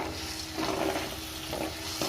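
Onion, tomato and tamarind mixture frying in oil, a steady close sizzle with soft stirring scrapes and brief louder bursts of spattering.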